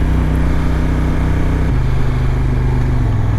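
A Honda NT1100 motorcycle engine drones steadily at close range, its pitch dropping in distinct steps as gears are changed manually through the dual-clutch transmission.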